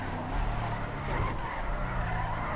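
A police car in GTA V's LSPDFR mod skids while turning right, a steady rush of tire noise and engine drone holding at moderate loudness for the whole stretch.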